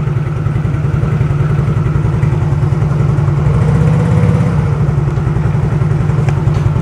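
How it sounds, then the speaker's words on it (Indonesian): Yamaha X-Ride motorcycle engine held at about 4000 RPM while being diagnosed for sputtering and stalling, a loud steady close-up drone with fine rapid pulsing and no speech. "Seandainya kita gas teman-teman di kurang lebih antar 4000 RPM ya teman-teman."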